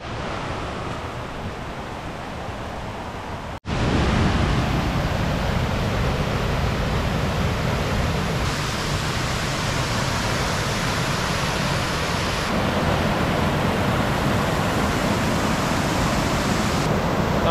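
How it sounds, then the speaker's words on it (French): A waterfall cascade behind the camera gives a steady, dense roar of rushing water that jumps louder after a brief cut, then continues unbroken and close. "J'ai une belle portion de cascade ici derrière."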